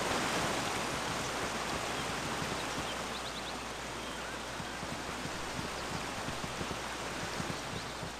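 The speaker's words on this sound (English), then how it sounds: "Do I hear water? Is it the trees? Oh, there is a waterfall." A waterfall in the video game Baldur's Gate, a steady rushing wash of falling water that stays constant and fairly soft, with no talk over it.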